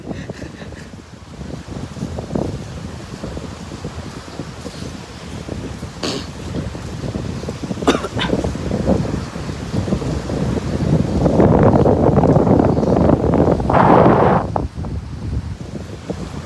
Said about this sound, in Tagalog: rinig nyo yung ihip ng hangin